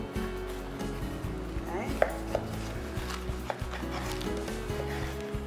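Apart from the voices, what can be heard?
butcher knife cutting ribeye steaks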